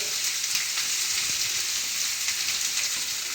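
Onions fry in a pan on lowered heat, giving a soft continuous sizzle with light crackle and spatter, heard close and alone.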